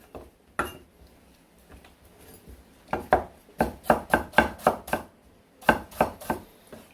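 A knife slicing red chili pepper diagonally on a cutting board: a few scattered taps, then a quick run of about seven sharp, evenly spaced chops, a pause, and three or four more.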